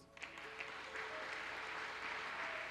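Congregation applauding during a church worship service, a steady broad wash of clapping that holds throughout, with faint sustained tones beneath.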